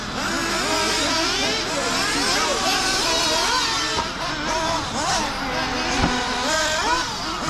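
Several nitro RC buggies race in a Sportsman A-Main, their small engines whining and buzzing in overlapping, constantly shifting pitches as they accelerate and brake, loud and continuous, with voices faintly under the engine din.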